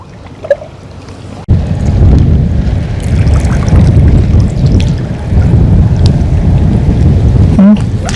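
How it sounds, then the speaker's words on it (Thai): Wind gusts over open water during net fishing for tilapia at a still natural pond, a steady loud rushing roar buffeting the microphone throughout. "ลมผัดอ่ะ"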